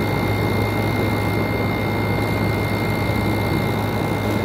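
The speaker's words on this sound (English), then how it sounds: "See that rattling noise? Well, this copper line is beating against that metal frame right here." Window air conditioner with a loose copper line beating against its metal frame, a loud, unbroken whirring rattle close by with no talking.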